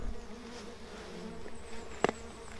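Wasps buzzing at a small hole of an underground nest, a faint steady hum with a few insects droning close by and a brief sharp knock near the end.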